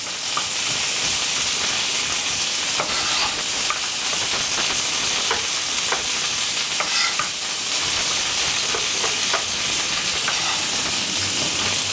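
Beef pieces browning for a beef and ale stew, sizzling and frying steadily and loudly in a hot pan, with stirring and tossing scrapes scattered throughout and no voices.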